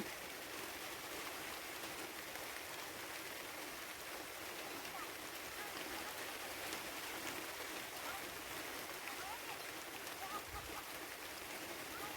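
Light rain falls steadily around a hut in a rice field, a dense, even hiss that holds at the same faint level throughout with no break.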